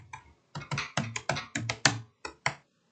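About eight crisp, close keystrokes on a computer keyboard as a search term is typed into a Chrome browser search bar, evenly paced with short silences between them.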